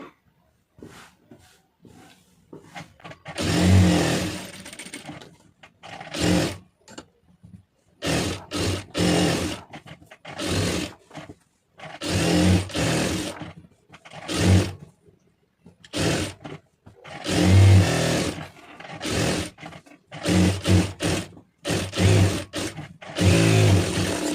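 A domestic sewing machine runs in repeated short bursts while stitching around a blouse lining, each run a loud buzzing whir separated by brief pauses, close up with no talk.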